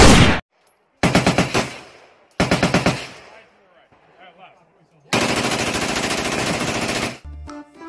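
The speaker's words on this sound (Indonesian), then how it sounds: "Ternyata ada tembak-tembakan juga." Rapid M4 rifle fire in a video game: two short, loud automatic bursts about a second apart, then a long sustained burst of nearly two seconds, with quiet gaps between them and no talking.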